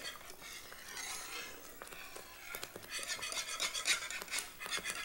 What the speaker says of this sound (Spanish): Siempre revolviendo.